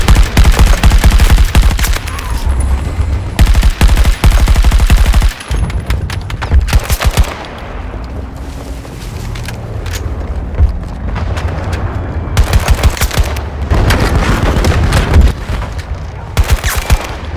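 Loud, dense gunfire from the video game Battlefield 2042: rapid bursts and heavy booms pile up in a dense battle mix, easing off midway before intense firing returns near the end.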